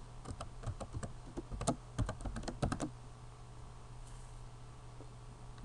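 Keys tapped on a computer keyboard while entering a root password during a RHEL 6.5 system install, a quick irregular burst of close clicks for about three seconds, then only a quiet steady hum.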